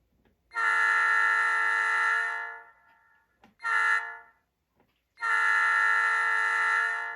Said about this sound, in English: be able to hear a different sounding horn